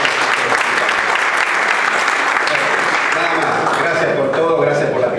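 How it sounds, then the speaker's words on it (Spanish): Audience at a documentary screening applauds steadily and loudly throughout, a dense continuous wash of clapping with faint voices underneath. "Otro aplauso, por favor."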